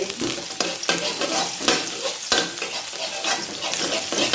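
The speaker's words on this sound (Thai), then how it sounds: "ใส่กระเทียมลงไปเลยนะคะ" Garlic frying in hot oil in a pan, with a loud, continuous close sizzle broken by repeated stirring scrapes.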